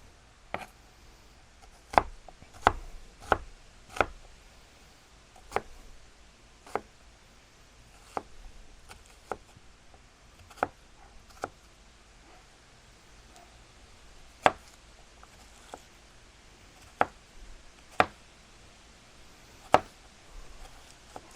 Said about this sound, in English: don't comment too much on my chopping up of the onion